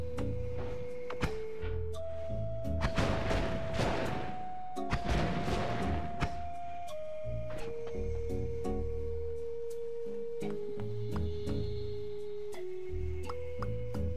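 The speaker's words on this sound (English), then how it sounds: "that makes me want to use an explosion like this" Two rumbling, crackling explosions go off in the video game Noita, each lasting over a second, over sustained tonal game music and smaller clicks.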